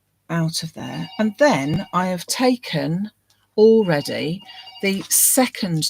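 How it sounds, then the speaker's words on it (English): A telephone rings in the background while a person talks continuously, and the ring is partly buried under the voice. "Oh, excuse the phone for ringing."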